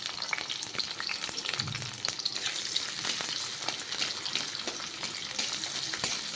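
Onion and green chili sizzle loudly in a hot pan, a dense crackling fry broken by frequent clicks and taps of a stirring utensil, close up and with no one speaking.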